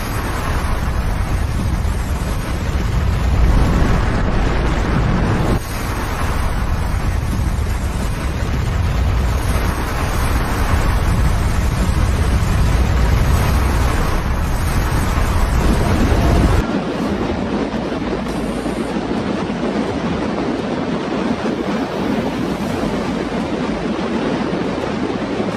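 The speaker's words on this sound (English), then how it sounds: "a massive avalanche barrels down the mountainside, crashing into the river below" Massive avalanche crashing down a mountainside into a river: a loud, sustained broadband roar like surging water and rushing wind, heavy throughout, with the low rumble dropping away abruptly about two-thirds in to leave a thinner hiss.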